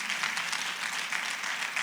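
Congregation clapping in church during a sermon, an even, fairly soft patter of many hands that holds steady throughout.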